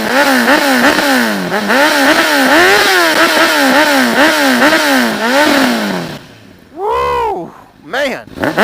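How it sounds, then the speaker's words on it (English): A 2006 Honda CBR1000RR sportbike engine revs repeatedly in sharp rising and falling bursts, loud and close, then drops back before two final quick blips of the throttle. "2006 CBR1000RR"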